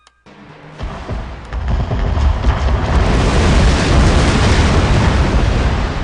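A Singijeon rocket barrage fires and explodes in the Shogun 2 video game: a sudden loud burst followed by a sustained, dense roar of overlapping booms and crackling blasts, with no voices.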